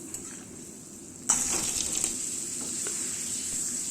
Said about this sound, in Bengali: এখানে এক এক করে পাঁপড়গুলো ভেজে নিচ্ছি